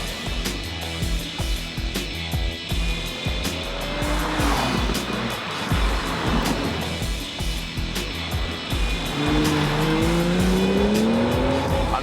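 A Lamborghini Murcielago supercar's V12 engine revs up hard, the loud, rising howl climbing in pitch while tyre squeal and rough mechanical noise fill the background.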